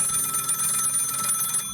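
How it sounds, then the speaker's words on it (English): An old-style telephone bell rings in a continuous, loud, close metallic trill in a radio drama, filling the brief moment without voices before cutting off. "That is the telephone ringing, isn't it?"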